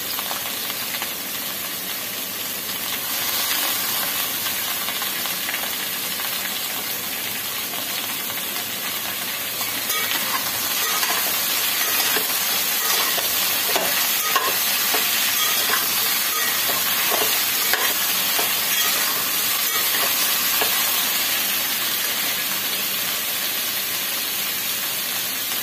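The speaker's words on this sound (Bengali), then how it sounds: "আমি এখন এই তরকারিগুলো ভাজছি, তো একটু ঢেকে রাখবো।" Mixed vegetables with raw banana fry for Bengali sukto, a steady loud sizzle and hiss that grows busier partway through, with crackling bursts and no talk.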